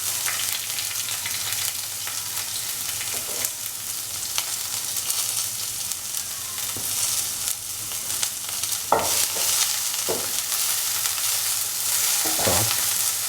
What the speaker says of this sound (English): now put in the big onion, which we cut into long slender pieces